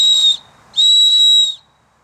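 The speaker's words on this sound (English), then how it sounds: "you get the whistle, which I'll demonstrate that to you again right now" A Friendly Swede paracord bracelet whistle gives two loud, piercing shrill blasts, a short one then a longer one, each alone with a brief pause between.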